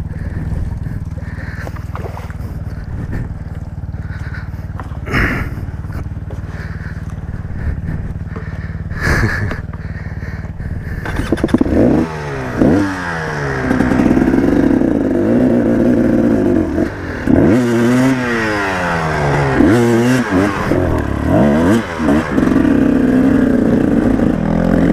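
A two-stroke motorcycle churns through mud, its engine revving in repeated rising and falling bursts that grow louder and more strained in the second half, with clattering and splashing mixed in.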